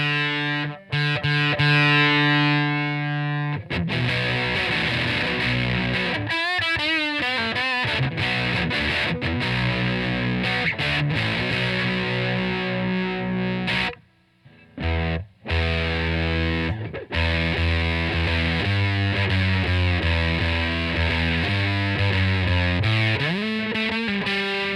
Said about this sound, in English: So then it becomes more of a distortion kind of effect, because when you mess with these tone capacitors,